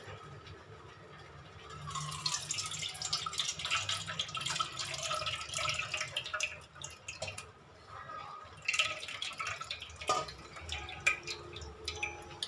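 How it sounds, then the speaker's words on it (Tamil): Tamarind solution, dissolved in rice-washing water, is poured into a cooking pot. Soft, uneven trickling and dripping splashes continue at low volume, with a few sharper drops near the end. "இந்த புளியை நல்லா கரைச்சி இந்த புளி கரைசலை இதில் ஊற்றிக்குங்க"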